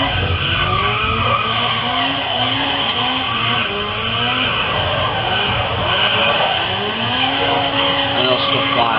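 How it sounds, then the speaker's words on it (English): Car drifting with long tire squeals and skids in the racing game GRID Autosport, engine revving and wavering through the slides, loud and sustained for several seconds. "Now that is how we drift."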